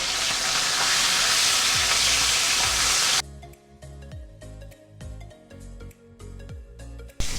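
Puti fish frying in hot oil in a Bengali kitchen, a loud steady sizzle that drops abruptly partway through, followed by quieter crackling and soft scraping and clinking as the pieces are turned.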